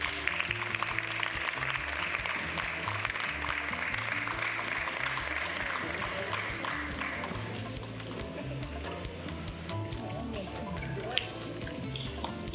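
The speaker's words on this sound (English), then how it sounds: "A round of applause for him, please." Crowd applause at a public event with a state health minister, a sustained dense patter of clapping with a voice speaking over it.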